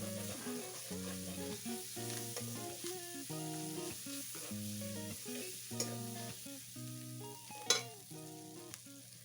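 Chopped tomato frying in a pan for a bhola fish curry, a soft continuous sizzle with occasional stirring clinks, quiet and close, under faint tonal background music.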